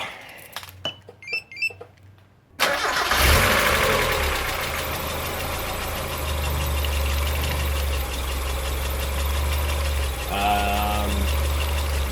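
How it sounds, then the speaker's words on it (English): A Mazda MX-5 cranks briefly with clicking and whirring, then catches and settles into a steady idle with the radiator cap off, running continuously and fairly close, with a short beeping chime near the end. "So I'll just go ahead and start the car now."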